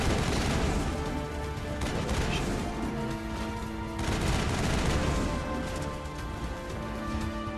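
Sustained gunfire and explosions from the sci-fi shooter Mass Effect, with dense overlapping shots and booms continuing loudly throughout over a busy battle soundtrack.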